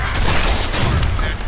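Rapid, loud gunfire in the Guns, Gore and Cannoli video game on hard mode, a dense burst of shots with booming low impacts running continuously through the whole moment, with no pauses.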